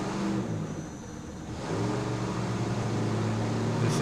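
Onboard engine roar of an offshore racing powerboat during a parade lap before a 2006 Ocean City Grand Prix race, a steady loud drone that dips briefly and then climbs to a stronger, harmonic-rich throttle for the rest of the moment.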